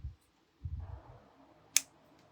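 A quiet tabletop scene with faint low handling noises, then a single crisp scissor snip as the tail is cut off a Halloween apothecary craft piece.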